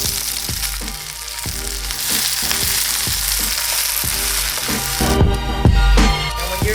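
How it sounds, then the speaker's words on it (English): Garlic and ginger sizzle loudly in hot oil in a stir-fry pan, a dense steady crackle broken by rhythmic scraping strokes of a utensil stirring, with a burst of louder sizzle near the end. "infuse this oil with the flavors of garlic and ginger"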